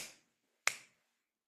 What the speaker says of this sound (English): I'm going to do the snap clap.